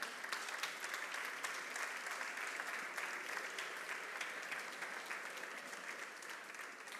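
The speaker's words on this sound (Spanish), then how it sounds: "Un aplaudiment, por favor." Steady, continuous clapping from an audience at the Nit del Llagostí prawn festival event in Vinaròs, fairly distant and even, fading slightly toward the end.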